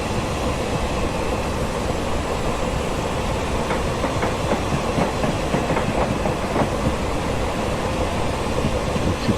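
Train passing in the Train Simulator 2017 video game on the South Wales Coastal route: a steady, loud rumbling roar with faint rhythmic clicks of wheels over rail joints, continuous throughout.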